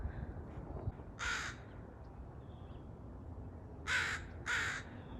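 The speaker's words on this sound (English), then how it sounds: "I spy a crow up there, and I hear it too." A crow caws once, then twice more in quick succession, moderately distant over a quiet outdoor background.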